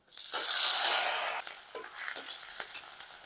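Green chilies drop into hot oil already used to fry peanuts, setting off a loud burst of sizzling that settles into a softer crackle with a few sharp pops, close and without speech.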